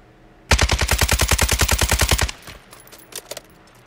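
Rapid burst of close, loud automatic gunfire in the video game Warzone, about twenty evenly spaced shots over roughly two seconds from a fire shotgun, then faint clicks and softer scattered noises.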